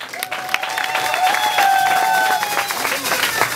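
Crowd applause at the launch of community station Etoile FM 91.5 in Kikwit, a continuous, fairly loud clapping mixed with a voice talking and a sustained tone over it.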